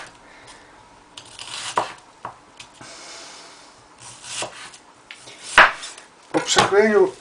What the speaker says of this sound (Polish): cebulę kroimy w piórkach